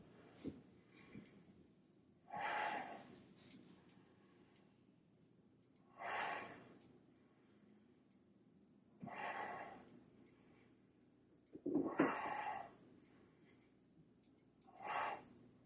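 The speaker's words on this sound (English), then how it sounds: "Take 5 deep breaths." Deep breathing during a yoga exercise, five slow, deliberate breaths spaced a few seconds apart, each a soft rushing swell of air heard close in an otherwise quiet room.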